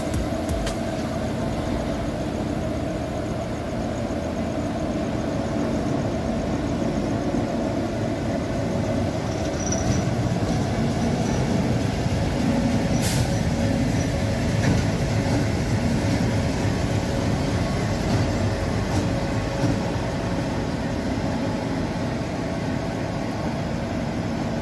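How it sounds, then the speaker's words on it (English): Train hauled by a WAP4 electric locomotive on the Parasuram Express, heard as a continuous, loud rumble of wheels and carriage noise with steady clatter throughout and no talk. "Our train will be hauled by the electric locomotive WAP4 from Arakonam Electric Loco Shed, which is getting ready for the action."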